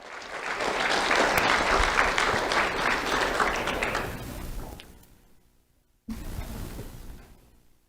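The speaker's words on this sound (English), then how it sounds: "Let's have a round of applause for Savannah Howard." Audience applause at a school awards ceremony for a second-grade honoree: a full round of clapping swells, fades to near silence, then a shorter second burst starts abruptly and trails off.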